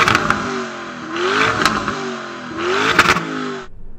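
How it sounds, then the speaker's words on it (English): A Lamborghini Urus SUV engine revs in two loud bursts at a drag race, each rising and falling with crackling pops, close by and alone without voices. "let's hear the Urus."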